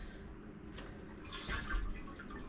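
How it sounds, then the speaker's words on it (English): Flushing water rushing and trickling in a camper toilet on a Flagstaff E-Pro E20BHS travel trailer, a low steady wash with a brief louder surge, fairly faint and distant. "So we flush the toilet until it stops running"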